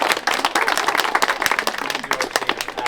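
An audience at a beaver release event gives a round of applause, dense clapping from many hands that stays close and lively throughout, with a faint voice or two underneath.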